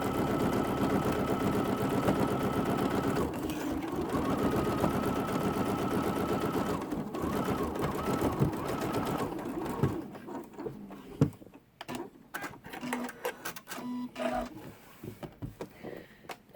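An embroidery sewing machine stitches a quilt block held in the hoop, with a loud, steady mechanical whir that later breaks into irregular clattering stitches and short pauses.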